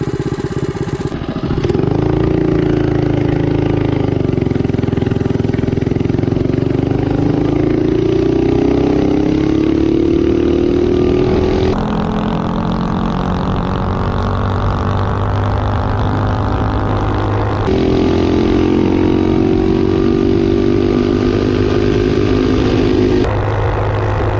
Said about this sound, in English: So now I'll give it full throttle to the end and then shut it down.